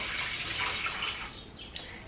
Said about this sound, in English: Now we're gonna add the water.